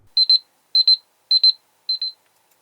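A bright electronic alarm from a Huawei Y9 Prime 2019 phone beeps in four evenly spaced bursts, each a quick double chirp, clear and alone against silence.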